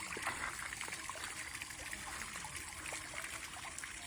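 Garden fountains in a hillside restaurant garden in Croatia, water trickling and splashing softly and continuously in the background, faint and steady throughout.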